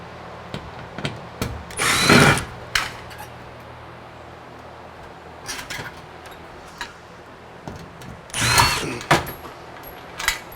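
A power drill drives 1-inch 5/16 lag screws with large washers. Short whirring bursts sound up close at about two and eight and a half seconds, with scattered clicks and taps of handling between them.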